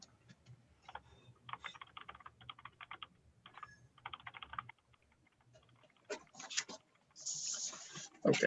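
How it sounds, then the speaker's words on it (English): Close, quiet computer keyboard typing comes in bursts of rapid clicking keystrokes separated by short pauses, with a few louder key strikes toward the end and no talking. "What language are you typing in?"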